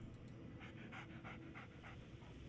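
The dog companion Dogmeat in the video game Fallout 3 pants in quick rhythmic breaths, around ten short huffs, faint and steady over a low game background hum.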